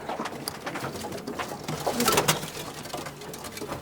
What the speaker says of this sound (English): this pigeon he's actually from a friend of ours, Tyler,